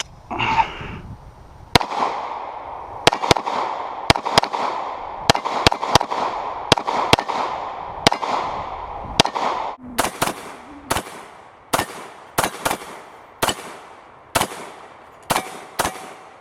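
FNH FNS 40 S&W handgun fired outdoors: a series of sharp, loud single shots with ringing echo tails, spaced irregularly at first and then coming in quicker rhythmic pairs and strings.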